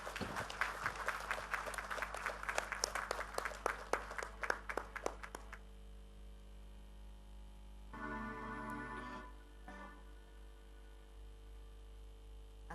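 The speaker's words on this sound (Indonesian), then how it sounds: "Kepada Ibu Megawati Soekarno Putri, kami mohon dengan hormat kita berikan tepuk tangan yang meriah." Applause from the audience at the closing of the PDI Perjuangan congress in Bali fills the hall for several seconds: a faint, quick patter of many hands that fades into low hum, with a brief murmur of voices afterward.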